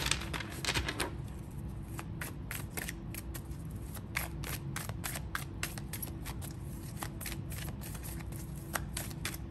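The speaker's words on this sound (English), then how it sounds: "Give me one more shuffle, Spirit." Tarot cards are shuffled again and again in quick riffling bursts and snaps, close up, over a faint steady hum, with no talking.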